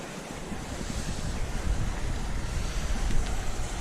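Creek water flowing on a snowy mountain, a steady rushing wash of water mixed with wind noise on the microphone, moderately loud and continuous with no voices.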